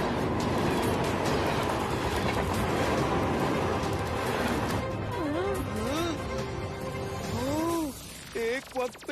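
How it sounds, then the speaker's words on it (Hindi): A metro train running with failed brakes, its dense rumbling rail noise carried under continuous excited talk, with rising whistle-like tones near the end. "मेट्रो ट्रेन का ब्रेक फेल हो गया है।"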